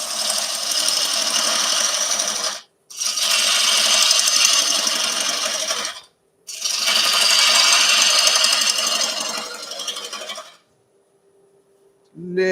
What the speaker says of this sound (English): I think we can start turning the lathe up a bit now.